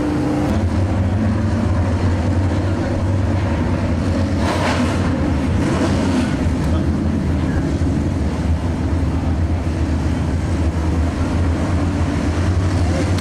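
Dirt-track race cars, Selcom B-Mod heat race cars on an oval, roar together at the green flag out of turn four, a loud, steady engine drone with no speech.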